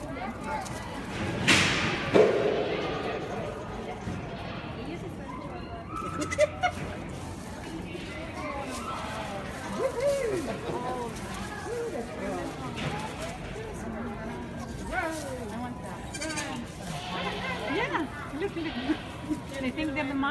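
Baby goats bleat a few times, one loud cry early on, over a busy background of voices and shuffling movement.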